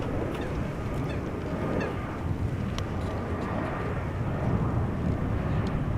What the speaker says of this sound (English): This is the KLM Embraer 175 arriving from Frankfurt